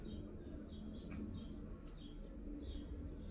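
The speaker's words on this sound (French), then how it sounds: "Merci le perroquet Nini Beauté." A parrot gives a series of short, high chirping calls at intervals, faint over a low, steady background hum.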